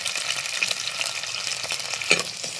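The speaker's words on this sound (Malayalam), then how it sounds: "അപ്പോൾ വെളിച്ചെണ്ണ ചൂടായിട്ടുണ്ട്. ചെറിയുള്ളിയെ ചെറുള്ളി ഒന്ന് വയറ്റിയെടുക്കണം." Small shallots sautéing in hot coconut oil, a continuous bright sizzle and crackle with occasional soft stirring scrapes, close and steady, one slightly louder pop near the end, no voices.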